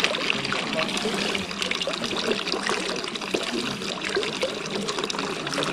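Steady running spring water from a mountain trickles and splashes continuously, close by, with no voices over it, at Naewon Temple in Yangsan, South Korea.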